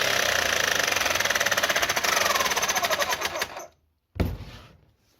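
A Bosch electric chainsaw runs with its motor spinning but the chain not turning, giving a loud, fast mechanical rattle that stops abruptly, then a brief second burst that fades out.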